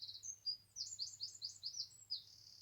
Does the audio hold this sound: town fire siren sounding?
no